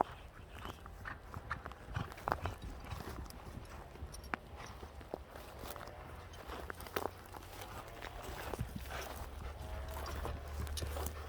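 A horse walking at an ambling gait, steady clip-clop of hooves on hard ground with occasional crunchy steps, fairly close and continuous with little talk.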